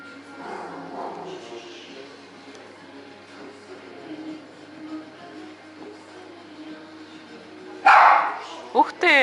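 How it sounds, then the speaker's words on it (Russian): Dogs meeting at an art village break into a sudden burst of loud, close barks and yips near the end, after a stretch of quiet background chatter and voices. "О, еще одна собачка пришла."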